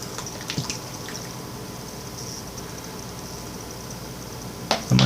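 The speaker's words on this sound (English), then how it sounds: "Let's do 3 liters of water." Water pours onto a dry coco fiber substrate brick as a soft, continuous trickle and splash at moderate closeness. It ends with a louder burst of noise near the finish.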